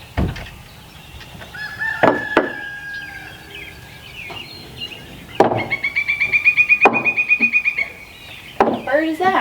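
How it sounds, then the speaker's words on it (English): A kookaburra calls outdoors near a back porch build, its cackling laugh rising in rapid, rhythmic bursts that swell and fade, with scattered knocks and faint voices around it. "Kookaburra."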